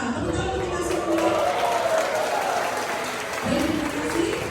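An audience at an opening ceremony in a hall claps in sustained applause that swells and eases, and voices speak over the clapping.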